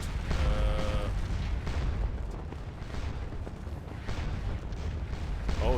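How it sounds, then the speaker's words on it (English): Artillery fire in Scourge of War: Waterloo, a Napoleonic battle game, with steady deep booms and rumbling cannon volleys rolling on continuously and loud, interleaved with faint battlefield clatter. "I think that might be Gerard's divisional artillery, actually."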